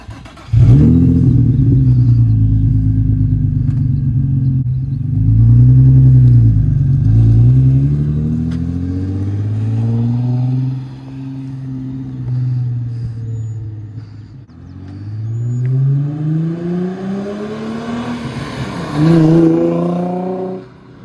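A modified Nissan/Infiniti G35 engine revs repeatedly, loud and close, with deep rising and falling rumbles that climb in pitch and drop back over about twenty seconds, with no talking.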